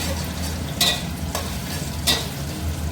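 Black cumin (kalonji) seeds fry in a pan under a constant soft sizzle, broken by a few sharp spoon scrapes as they are stirred.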